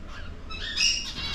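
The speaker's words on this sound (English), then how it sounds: "Got some birds." Small caged birds chirp in the pet section of a Japanese home improvement store, with a brief burst of high, bright tweets over a low indoor hum.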